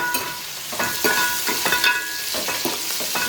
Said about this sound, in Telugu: ఫ్రై చేసుకోవాలండి ఇదిగోండి ఇదైతే వేగిపోయినాయి కదా చక్కగా